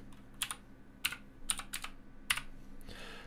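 Someone typing a search word on a computer keyboard: a handful of quick, crisp key clicks in short irregular bursts, close and fairly quiet, with no talk.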